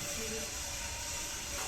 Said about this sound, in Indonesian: Ini suara apa ini? Kipas ini kan?